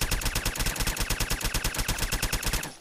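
An automatic Deliverer pistol fires in Fallout 4 in one continuous fast burst of evenly spaced, crisp shots, loud and close, stopping abruptly just before the end.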